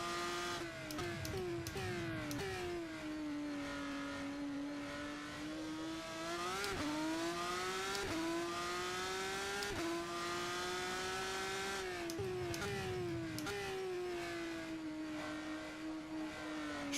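Racing car engine in a sim racing game, revving loudly with downshifts and shifting pitch as the car trail-brakes into the final corner, steady and close with no talk.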